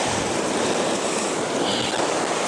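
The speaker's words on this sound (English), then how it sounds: "So if you see me running, it's because there's a wave coming in." Sea waves wash in on the shore at Caister-on-sea, a steady, loud, broadband rush of surf with wind noise throughout and no voices.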